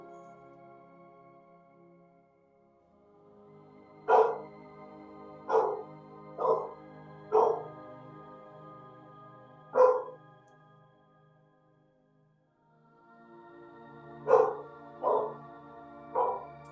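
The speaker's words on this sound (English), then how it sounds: "Sorry about my dog barking there." A dog barks in short separate bursts during a quiet bedtime yoga session at home, several barks spaced over a few seconds, a pause, then a few more, moderately close and otherwise alone.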